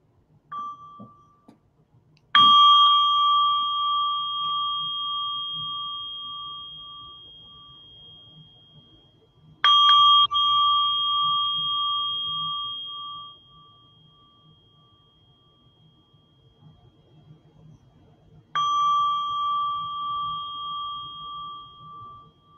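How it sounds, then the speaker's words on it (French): A meditation bell is struck three times at spaced intervals, each strike a clear, pure ring that sustains and slowly fades into near silence before the next. "Je vais simplement commencer cette micro-pratique avec 3 sons de la cloche."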